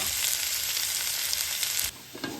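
Carrots, capsicum and onion fry together in a pan for chicken spaghetti, giving a loud, steady close sizzle that dips briefly near the end, with no voices.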